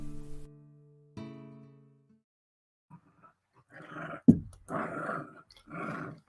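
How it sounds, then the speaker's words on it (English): A dog growls and rumbles loudly up close at the start, then goes quiet; a later stretch of lower, rough vocal noise follows, with indistinct voices and room noise. "Sorry if our dog is being loud tonight."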